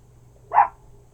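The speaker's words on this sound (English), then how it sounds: "that's what dogs do, they bark." A dog at home barks at someone walking down the street: one short, moderately loud bark standing alone over a faint low hum, with no talking.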